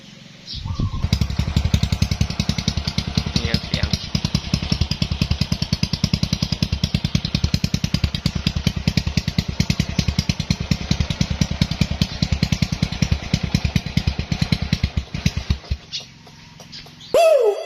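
A motorcycle engine fitted with an aftermarket exhaust pipe revs and idles close by, a loud, rapid, throbbing exhaust pulse held for about fifteen seconds before it cuts off.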